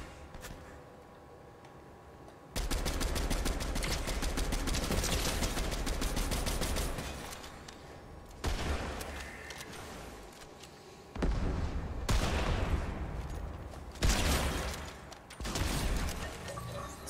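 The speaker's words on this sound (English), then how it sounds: "his friend's firing at me" Enemy gunfire in the video game Fortnite, loud bursts of rapid automatic shots in several long volleys with short pauses between them.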